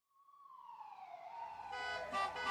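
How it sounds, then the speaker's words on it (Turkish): A cartoon ambulance siren wails in a street where the traffic lights have failed. A single rising tone swells into a fuller, louder siren over a couple of seconds and plays alone. "Ambulans bile gidemiyor."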